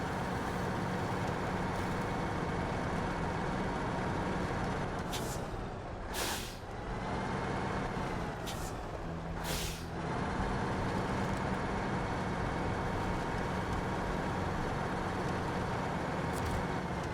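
A heavy truck engine in the game Snowrunner drones loudly and continuously for the whole stretch, with two short hissing bursts like air brakes partway through.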